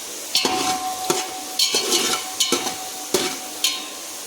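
Garlic frying in hot oil in a pan for dal palida, with repeated stirring scrapes and bursts of sizzle at a steady, close rhythm, no voices.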